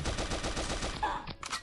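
Rapid automatic gunfire from a weapon in the Pixel Gun 3D shooter game, a steady fast rattle of shots for over a second, then a couple of sharper bursts and effects near the end.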